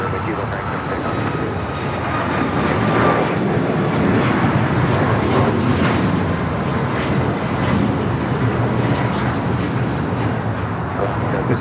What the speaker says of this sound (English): This is Alaska Airlines 1397 going to Portland, Oregon on a 737 MAX